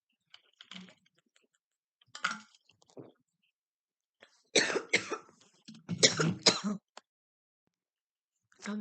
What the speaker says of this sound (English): I just had a coughing fit